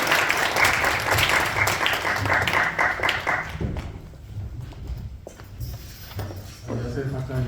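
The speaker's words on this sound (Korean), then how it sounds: "가끔 박수로 맞이하겠습니다." Audience applause at a church Christmas praise concert, a dense burst of clapping that fades after a few seconds as a speaker begins talking.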